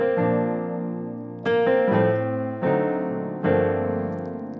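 Sustained piano chords change four times in a slow 2-5-1 passing chord progression, each struck cleanly and left ringing, played alone with no voices.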